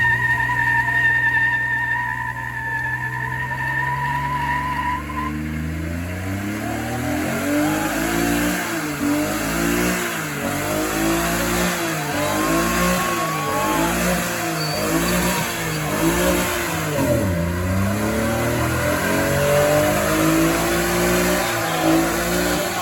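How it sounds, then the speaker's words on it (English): A truck does a burnout at a pre-meet gathering, its engine revving hard in loud repeated surges that rise and fall for over twenty seconds, with tire squeal and crowd noise mixed in close by. "Something truck doing a burnout."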